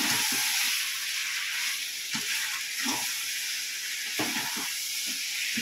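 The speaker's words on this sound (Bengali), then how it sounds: "চলো এটা ভালো করে কষিয়ে নিই" Chicken masala with tomatoes and green chilli paste sautéing in a pan: a steady close hiss and sizzle with occasional soft stirring clicks, no talk.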